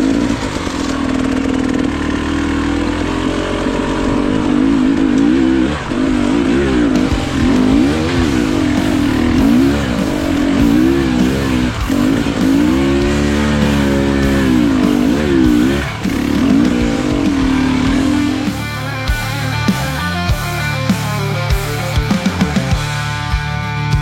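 A motorbike engine in a rainy rural riding game revs and holds steady, its pitch wavering up and down through the run, then a sputtering, choppier burble near the end; loud and close, no talking.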